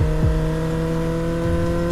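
A motorbike engine drones steadily on a deserted road toward farm fields, its pitch briefly swooping up and down a few times over a constant hum.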